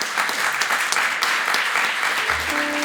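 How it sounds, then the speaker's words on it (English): An audience at a sustainable food forum claps for the farmers, a close, continuous round of applause lasting a few seconds, with a faint tone entering near the end. "we will have to end this session with a big round of applause for our farmers"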